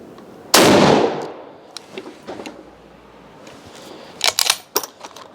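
A single loud rifle shot from a 7.62mm Lee-Enfield No.4 (L8 Sterling conversion), a sharp blast with a long decaying tail outdoors, followed by faint rustling and a few scattered clicks and handling knocks.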